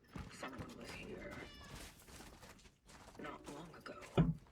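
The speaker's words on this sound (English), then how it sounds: "Okay, cat." A cat meows inside the horror video game Cronos: The New Dawn, mixed with game ambience and a voice talking throughout, with one louder sharp cry near the end.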